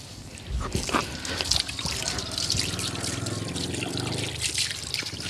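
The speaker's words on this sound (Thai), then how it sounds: "เปิดก๊อกน้ำใส่เลยก็ได้" Water runs steadily from an opened tap, a continuous splashing and trickling flow that lasts throughout at moderate loudness, with no voices.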